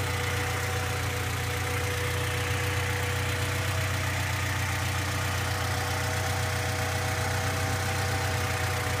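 A car engine with a modified intake manifold and throttle body idles steadily and close by, a constant low rumble with no talk over it.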